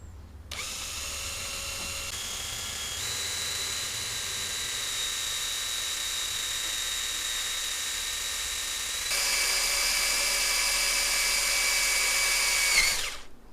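Power drill with a drill stop fitted to the bit runs steadily for about twelve seconds as a loud, close, continuous high whine, stepping up in pitch and intensity near the end before cutting off.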